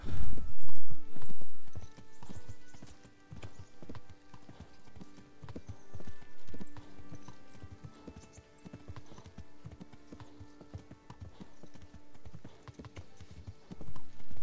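Horse hooves clip-clop steadily on the ground in the video game Kingdom Come: Deliverance, a close, continuous trotting rhythm with a few louder thumps near the start and end.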